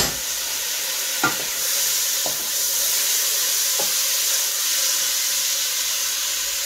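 Spice masala fries in a pan with a loud, steady sizzling hiss, broken by a few soft scrapes of stirring up close, with no talking.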